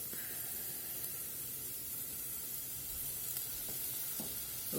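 Onion, carrot and celery sizzle in olive oil in a pot, a steady broadband frying hiss that holds even and close throughout with a few faint knocks, no talking.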